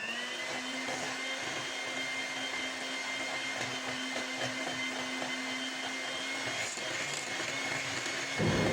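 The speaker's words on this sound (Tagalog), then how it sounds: "Imimix lang natin ito gamit yung electric mixer hanggang sa mag-double size." Electric mixer whipping cream with condensed milk until it doubles, a steady loud motor whine with a constant hum, running continuously without pause.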